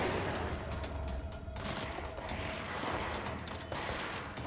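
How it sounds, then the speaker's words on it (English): Rapid gunfire and combat noise in the video game Control, a dense continuous barrage of shots and impacts, loud and unbroken throughout. "stop shooting at my boys"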